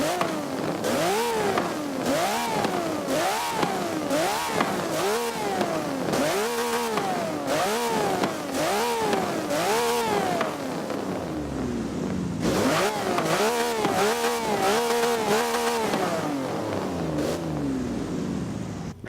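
A car with a side exhaust in Forza Motorsport 7 revs hard and steadily for the whole stretch, its loud engine note rising and falling through repeated gear changes, with a brief lull partway through.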